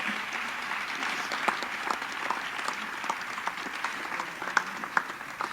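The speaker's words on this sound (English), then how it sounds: "we can applaud that" Applause for a sports team heading to a state final, a moderate wash of clapping with individual sharper claps popping out, continuing evenly throughout.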